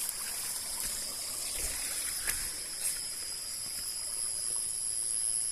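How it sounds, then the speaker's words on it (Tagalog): Gentle flowing water of a river at night, a soft continuous trickle with faint outdoor background hiss. "ito ay ilog to."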